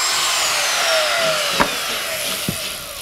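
A router cutting a box opening in a drywall panel, a continuous high-pitched grinding whine with a couple of brief knocks, loud and close with no talk.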